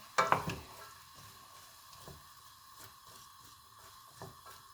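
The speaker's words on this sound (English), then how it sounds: "you stir for about more or less 5 minutes, making sure it doesn't get stuck in the bottom of the saucepan" Minestrone vegetables being stirred in a saucepan on an Italian gas stove: a soft, steady sizzle under a few scraping spoon strokes, with one louder clatter near the start, quiet and close, with no talk.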